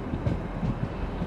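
A new Merseyrail train arriving on the Ormskirk line, a low rumbling roll of wheels and motors with rhythmic thumps, close and steady over the short stretch.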